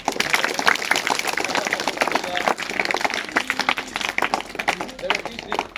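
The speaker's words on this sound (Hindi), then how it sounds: "तो एक बार फिर से तालियां बजाओ" An audience of students and guests applauding at a school general-knowledge and sports competition, a dense sustained round of clapping with voices and crowd noise running underneath.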